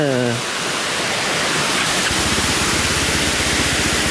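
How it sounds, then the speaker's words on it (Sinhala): Rain-swollen waterfall streams rushing beside a road after heavy rain, a loud, constant broadband roar close by, with a brief tonal sound and a faint engine-like pulse underneath. "වැස්සත් එක්ක ලොකු දියයිලි වෙලා."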